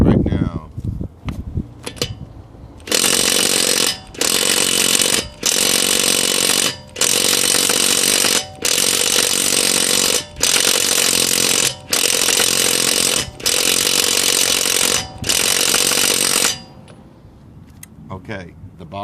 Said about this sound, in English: the Bosch 12-volt impact could not remove the lug nut off the Nissan Altima